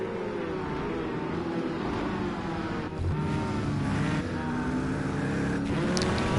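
A race car engine roars steadily under throttle in Project Cars 2 during an SCL race at the Roar Before the Continental, a loud, continuous drone with slight pitch shifts as it pulls through the field.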